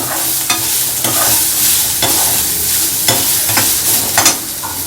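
Vegetables and shallots, including elephant yam, drumstick and beans, sizzle while being stirred in a pan over medium flame for Kerala theeyal, with steady frying hiss and repeated scraping strokes of a spatula.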